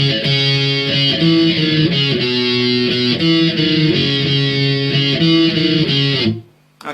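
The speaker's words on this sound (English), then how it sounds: "So that's guitar 2 for the chorus" Heavily distorted electric guitar plays the second guitar part of the chorus of a song, a dense sustained riff with shifting notes, loud and close, cutting off abruptly near the end.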